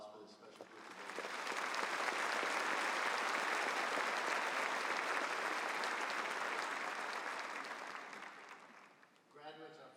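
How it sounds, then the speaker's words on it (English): A large audience at a university graduation ceremony applauds, the clapping rising after a brief lead-in, holding a broad, loud roar, then fading, with a voice briefly audible at the edges. "Let's have a round of applause for this special group of leaders."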